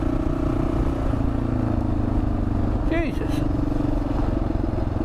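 A Kawasaki KLR650 motorcycle riding over loose blue gravel, its steady engine drone mixed with heavy wind rush, while a rider briefly exclaims.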